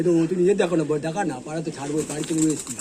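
Kaldom pigeons coo softly and repeatedly up close, their rolling calls mixed with someone talking over them.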